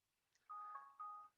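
A mobile phone ringtone sounds in a quiet room, two sustained electronic tones rising in sequence, fairly faint and alone with no talking.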